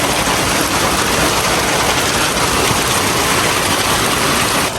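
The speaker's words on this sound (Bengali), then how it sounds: "প্রচুর বৃষ্টি হচ্ছে" Heavy rain pours down steadily, a dense, loud hiss of drops with no pauses and no voices.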